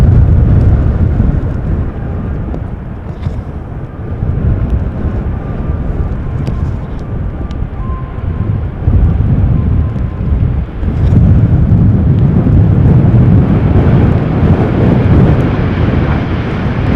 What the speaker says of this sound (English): This is KLM flight 1008, arriving from London Heathrow. It's a 737-800.